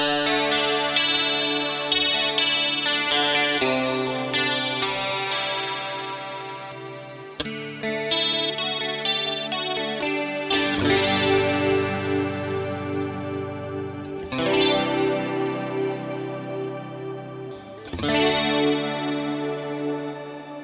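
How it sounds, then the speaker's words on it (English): Electric guitar chords ring out one after another, washed in a lush, filtered reverb from a Line 6 Helix Native that lingers and swells, with no talking. "this is your classic filtered reverb"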